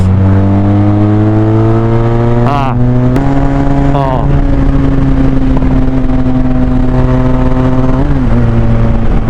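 Parallel-twin motorcycle engine rumbling loudly at close range with a strong steady drone, rising through a few quick revs and settling between them.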